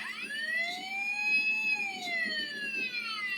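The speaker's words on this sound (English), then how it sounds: "It just gives off that siren." A wailing electronic siren from a Transformers Leader Sentinel Prime toy rises and falls in pitch, steady and fairly loud, with a faint rattling buzz beneath it and no voices.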